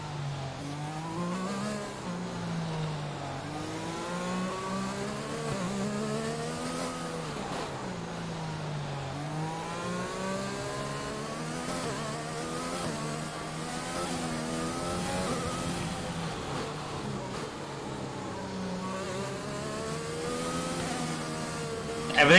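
A race car engine in the F1 2020 video game revs steadily and fairly faint, its pitch sliding up and down through gear changes across a long continuous stretch.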